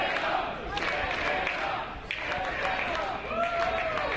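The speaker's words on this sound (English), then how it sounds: "Crowd showing a great appreciation for Santana here." Wrestling crowd at a live arena show cheering and clapping in appreciation for a wrestler, a dense roar of many voices and applause filling the hall, fairly distant and steady.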